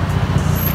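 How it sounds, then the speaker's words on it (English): A car engine running hard on a nitrous pull at a street race, with a dense, steady low roar and no talk. "We're getting a nitrous pull."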